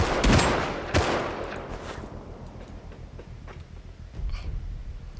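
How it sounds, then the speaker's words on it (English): Gunfire in the survival game Rust: a couple of close, loud shots at the start followed by fainter, distant firing and a rumbling background. "he shot me"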